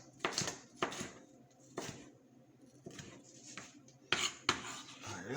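A sharp knife chopping vegetables like carrot and potato on a board, a handful of crisp, irregular cuts with clattering knocks, close but fairly quiet, with no talking.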